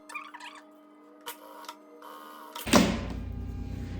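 A sewing machine stitching a lining seam close to the edge of a small round bag, starting with faint ticks and clicks, then a loud, steady motor whir.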